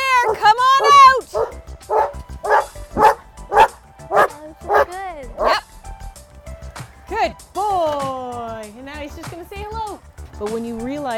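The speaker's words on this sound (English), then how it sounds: "this is the police, and I have a police dog." A police dog barks in a rapid series of loud, close yelps and bow-wows, joined by a few whines, with a person talking over part of the sequence.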